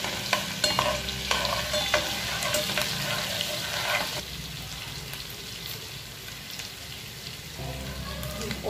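Garlic fries with a steady sizzle in a pan for butter pav bhaji while a spoon stirs and scrapes in quick bursts. The crackle is loud at first, then softens and drops back midway, close up, with no talking.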